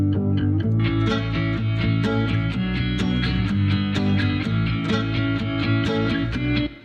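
A driving rock arrangement pairs an electric bass line with layered distorted electric guitars. The dense, steady, loud mix is full of repeated strummed hits and has no voices.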